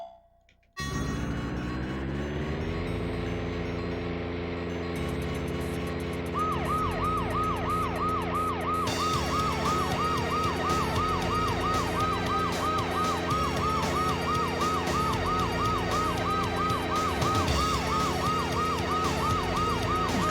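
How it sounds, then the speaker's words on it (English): Police car siren in the Nintendo 64 game Blast Corps, a steady wailing up-and-down siren cycling rhythmically over the drone of the vehicle and game music, starting after a short silence and continuing loud and close throughout. "Just drive around with a siren one for no reason."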